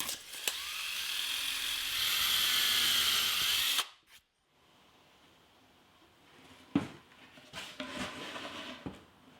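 A power drill bores and countersinks holes in wood for a mid-century modern end table, a steady loud whine for several seconds that stops abruptly, followed by quieter handling clicks and knocks.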